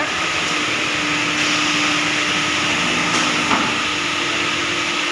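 A step-down transformer that has just been connected and switched on runs with a steady, loud electrical hum and a constant buzzing drone, which stays even throughout with no talking.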